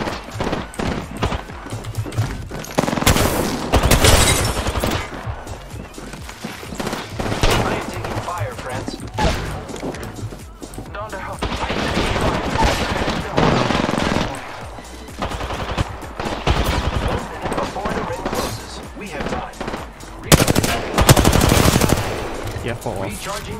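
Rapid gunfire in the Apex Legends video game, dense bursts of automatic shots and fusillades crackling in waves throughout.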